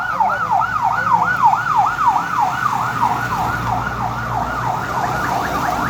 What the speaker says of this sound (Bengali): বাইরে আর ফায়ার সার্ভিস কই যায় আগুন লাগছে কই